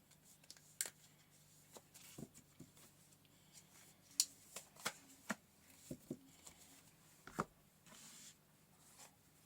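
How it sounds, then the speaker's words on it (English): Oracle cards are shuffled by hand in a quiet room, giving soft papery riffles and crisp taps that come in scattered bursts, close and faint with no talking. "we're going to pull a oracle card for you"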